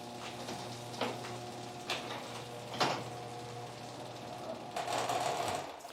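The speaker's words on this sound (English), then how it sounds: "So you can hear the garage door opening" Meross MSG200 smart WiFi opener driving a garage door open: a steady mechanical motor hum with rattling and a few knocks, continuous and fairly near, with no talk over it.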